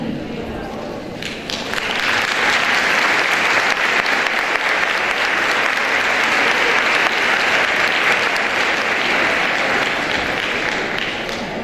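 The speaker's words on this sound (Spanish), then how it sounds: "los vamos a recibir nuevamente con un fuerte aplauso para ellos" A conference audience breaks into loud, sustained applause as speakers from Argentina and Costa Rica take the stage, swelling after a quieter opening and holding steady throughout.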